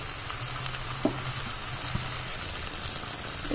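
Cashew paste frying with spice masala in a pan for Bengali-style doi chicken gives a steady, close sizzle with a couple of soft clicks from the pan.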